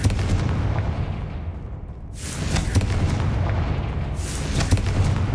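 Confringo spell explosions in the video game Hogwarts Legacy, two loud, rumbling booms a couple of seconds apart, each with a bright burst that decays into a low roar, with no talk.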